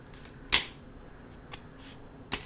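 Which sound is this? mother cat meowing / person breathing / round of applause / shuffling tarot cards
shuffling tarot cards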